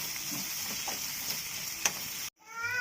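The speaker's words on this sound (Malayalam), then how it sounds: "ഇനി അതിലേക്ക് നമുക്ക് ഇഞ്ചി വെളുത്തുള്ളി പേസ്റ്റ് ചേർക്കാം. അത് നന്നായിട്ട് ഇളക്കാം." Ginger garlic paste fries in hot oil for a samosa filling, a soft continuous sizzle with faint scraping from stirring, cut off abruptly near the end.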